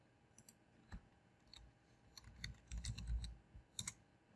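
Quick clicks of keys on a computer keyboard as a search term is typed, a scattered run of taps that bunch into a denser burst midway, close and fairly quiet.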